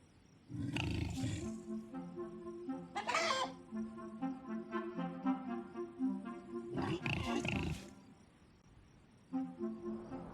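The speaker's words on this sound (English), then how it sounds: "hens wake, well and happy in their hutch." Hens cluck in the PC video game Orwell's Animal Farm: a few short, loud bursts of clucking at intervals over a steady tonal background, with no talking.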